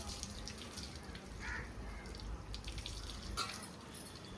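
Water is poured over a puppy during an outdoor bath, giving a continuous close splashing and trickling with a few brighter splashes, while faint voices murmur in the background.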